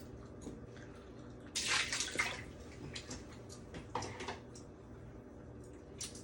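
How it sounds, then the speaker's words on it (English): Water runs from a tap as hands are washed at a sink, a steady splashing stream with a few louder gushes and drips, close by with no talking. "So I want to continue to wash my hands."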